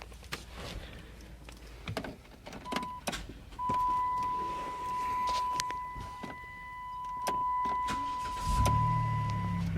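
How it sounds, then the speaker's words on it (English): A van's engine cranks and catches near the end, rising into a low rumble after scattered clicks and handling sounds, with a steady electronic beep tone running through the middle. "I'm going to go ahead and turn the van on real quick"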